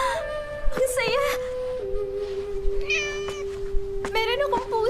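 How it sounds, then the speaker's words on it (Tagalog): A cat meows several times in short, wavering cries over a steady background tone, with voices speaking between the meows. "Meron akong pusa!"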